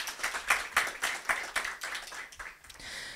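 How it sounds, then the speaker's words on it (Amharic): An audience applauds at a ceremony marking International Day of Persons with Disabilities, with scattered individual claps that rise and fall irregularly over a few seconds in a moderately reverberant hall and no talk. "ሞቅ ያለ ጭብጨባ ያስፈልጋቸዋል።"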